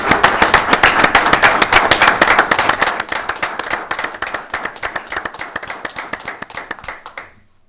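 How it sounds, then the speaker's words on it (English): A roomful of people clap in applause at a city council meeting, a dense burst that gradually thins to scattered claps before stopping. "Applause is okay on that one."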